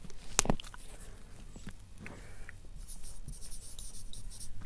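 Chalk or marker writing on a board during a math lesson: a sharp tap, then soft intermittent strokes and scratches, quiet and close, with no speech.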